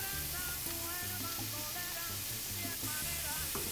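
Chopped onions saute in a pan with only a little oil, giving a steady, moderate sizzle and crackle that runs unbroken throughout, with no voices.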